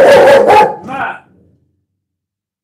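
A dog barks close and loud, two quick barks and then a softer third, followed by silence.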